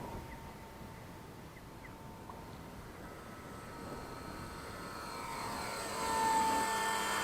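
A WLtoys V950 entry-level 3D RC helicopter flies and comes in to land in wind, its steady rotor and motor whine holding throughout and swelling louder near the end as it approaches close by.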